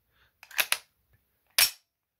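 Kuzey GN19 Glock 19 replica blank gun fired in short sharp cracks: a quick cluster of two or three bangs, a pause, then one more loud report, close and dry against silence.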